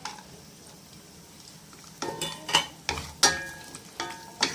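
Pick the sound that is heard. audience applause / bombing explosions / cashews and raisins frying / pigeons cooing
cashews and raisins frying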